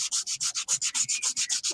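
Abrasive paper rubs turned acrylic spinning on a lathe, a close rhythmic swishing of about fifteen even strokes in under two seconds, steady and without voices.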